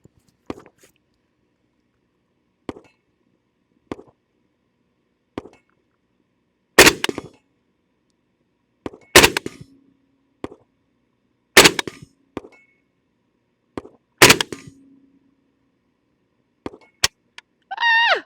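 AK-47 rifle fired from the prone position at steel targets 100 yards away with iron sights: loud, sharp shots spaced irregularly, some with a faint ring from the steel, separated by quiet gaps.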